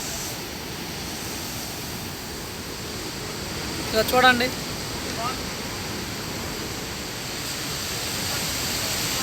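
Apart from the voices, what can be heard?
water rushing through Mallavaram project sluice gate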